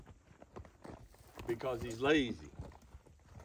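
A horse trotting on the ground in a training session, hooves clip-clopping in a steady rhythm close by while someone talks over it and a voice rises briefly in the middle.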